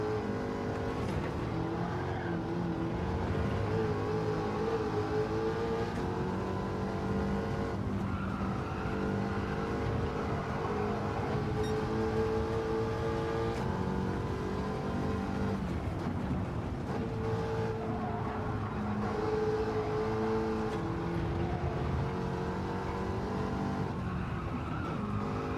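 A mid-engine Mustang hot rod in Gran Turismo 7 roars continuously around the track, its engine note rising and falling through gear shifts, with bursts of tyre squeal in the corners over roughly twenty-five seconds.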